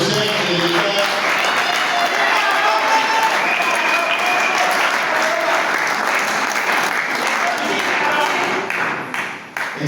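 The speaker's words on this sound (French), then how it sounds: "Je sollicite de votre part vos acclamations pour le chef de l'État." Ceremony audience clapping in a sustained, full round of applause with some cheering voices mixed in, holding steady before tapering near the end.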